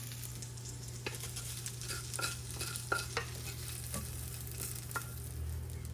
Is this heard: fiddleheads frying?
yes